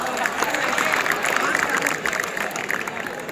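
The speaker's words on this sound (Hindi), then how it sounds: "इन बच्चों के लिए एक दूसरे के लिए ताली बजाओ।" An audience at a Hindi spiritual discourse gathering applauds for the children, a dense, continuous wash of many hands clapping, loud and close, sustained for several seconds.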